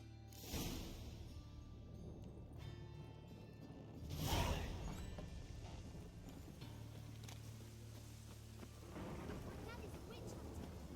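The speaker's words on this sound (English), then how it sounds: "I like rain." Rain and thunder in the video game The Witcher 3 make a steady wash of rainfall with low rumbles, the loudest swelling roll coming midway, under quiet background ambience.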